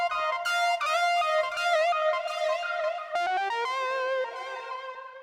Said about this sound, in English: It's literally ducking or reducing the delay amount.